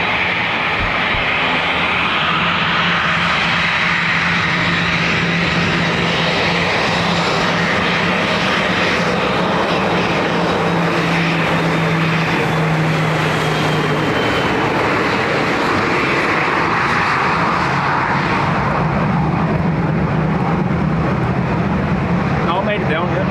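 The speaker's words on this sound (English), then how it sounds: "Sounds like an ATR didn't land." An ATR turboprop aircraft at Dublin Airport gives a loud, sustained engine drone with a steady propeller hum, close and continuous throughout while a voice talks over it.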